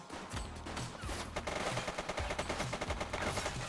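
Rapid gunfire in a police shooter video game, dense bursts of automatic shots crackling nearly nonstop over a low rumble for several seconds.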